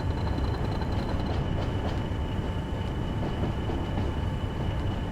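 In the Train Sim World 2020 game, a Class 40 diesel locomotive hauling a goods train to Leeds gives a steady low rumble with faint rail clatter throughout, and no one talks.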